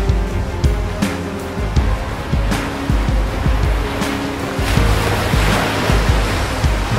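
Rushing, surging water like surf washing onto a shore as a big fish spits Jonah out, a loud churning wash that swells and falls repeatedly without speech.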